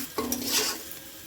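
Spiced food stirred and fried dry in a pan, with a soft sizzle under scraping strokes of a spoon against the pan, close and fairly quiet.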